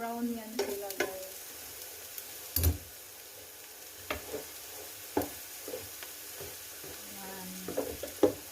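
Garlic frying in a pan gives a soft, steady sizzle, broken by a few sharp scrapes and clanks of stirring. The sounds are close and fairly quiet, and there is no speech.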